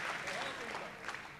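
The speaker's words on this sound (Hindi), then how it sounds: "जोरदार तालियां दीजिए, ऊर्जा दीजिए।" An audience at a Hindi kavi sammelan poetry gathering applauds in a soft, continuous wash of many hands, fairly faint and distant throughout the short stretch.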